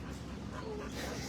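Several older dogs, aged eight to thirteen, mingle together in a shelter play group, with steady whimpering, panting and small yips filling the space close by, continuous throughout with no clear talk over it.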